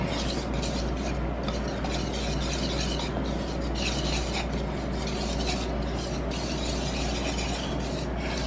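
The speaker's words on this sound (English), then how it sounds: "Whisk everything together." Banana nut muffin batter is whisked steadily and briskly in a bowl, giving a close, continuous rasping, scraping rhythm with no voice over it.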